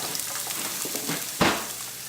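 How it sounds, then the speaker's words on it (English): Onions sauté in a pan for sisig, giving a steady low sizzle with one sharper burst of hiss and clatter partway through, and no talk. "we're going to saute the onions"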